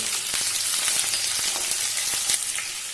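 Capsicum frying in oil in a pan for biryani crackles loudly and steadily up close, with sharp spitting pops scattered through the sizzle.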